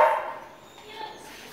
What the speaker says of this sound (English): What a cute dog.